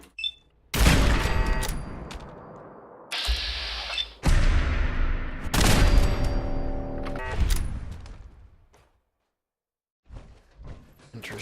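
Automated turrets firing in Fallout 4, loud bursts of rapid gunfire in several separated volleys with sharp onsets and ringing tails, a quiet gap, then softer shots resuming.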